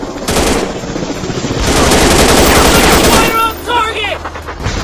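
Rapid machine gun bursts in a commando shooting video game, loud sustained rattling fire that stops abruptly, followed by someone talking.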